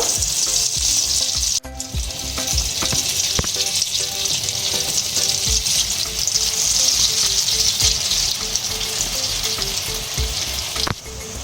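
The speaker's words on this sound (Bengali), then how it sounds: "কড়াইতে আমি তেল দিচ্ছি। তেল গরম হয়ে গেছে। এবার ডিমের গোলাটা আমি এভাবে ছড়িয়ে দেব।" Egg batter spread into hot oil in a wok sizzles loudly and steadily, a close, continuous crackling frying hiss with faint stirring scrapes and no voices.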